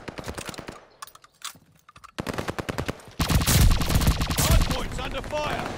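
Rapid MP-40 submachine gun bursts in ranked online video game play, loud and close, with dense rattling volleys building toward the end amid game effects and brief gaps.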